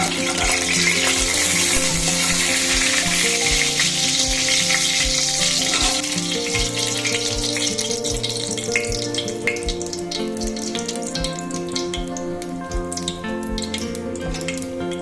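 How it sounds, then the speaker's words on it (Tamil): Continuous loud sizzling of whole spices (cinnamon, cloves, star anise, bay leaf) frying in hot oil, with crackles and pops throughout and occasional clinks of stirring. "எண்ணெய் காஞ்சோன்னே பட்டை, கிராம்பு, இந்த நட்சத்திரம், நட்டி, பிரியாணி இலை எல்லாத்தையும் போட்டு செவக்க கொஞ்சம்"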